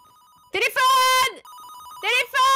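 A telephone ringing inside the Fortnite video game escape-room map, an electronic warbling tone that repeats in short bursts while loud voices shout over it.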